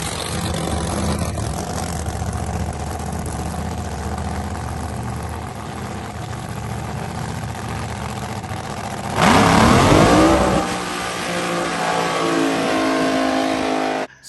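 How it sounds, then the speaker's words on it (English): A car doing a burnout, its engine idling and rumbling up close before a sudden surge of hard revving with screeching tyres, then settling back into a loud steady roar. "she can do a burnout just as good as everyone else now"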